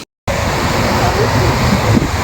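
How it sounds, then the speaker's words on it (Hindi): A huge fountain at Abu Dhabi's Lake Park sprays water in a dense, constant hiss and roar. It starts after a brief silent break and continues loud and close. "ये इतना खूबसूरत और इतना ह्यूज फाउंटेन एरिया बना हुआ था"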